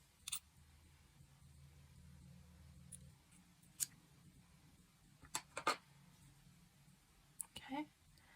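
Scissors cut beading thread close by while a beaded mask chain holder is made, giving a few quiet, crisp snips and clicks spaced apart over a faint, soft background.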